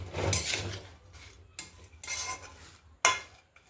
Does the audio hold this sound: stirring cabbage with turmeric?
yes